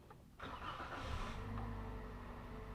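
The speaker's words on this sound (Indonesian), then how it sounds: "Kita hidupin dulu mesinnya." A Toyota Avanza engine cranks and catches, then settles into a steady, close, low idle rumble that runs on alone with no talking.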